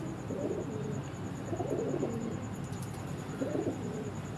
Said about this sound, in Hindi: ये असल डैडी कबूतर है